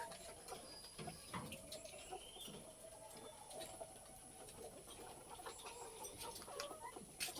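Pet chickens cluck softly in the background, with scattered faint bird calls over a low, steady ambient hiss and no speech.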